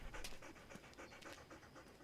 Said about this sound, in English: He's panting. Panting is a dog's way of keeping cool when it's hot.